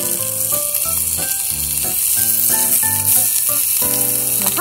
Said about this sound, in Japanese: ソフィー派のベーコンの焼き方でいきますよ